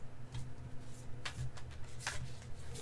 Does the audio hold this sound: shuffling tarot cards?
yes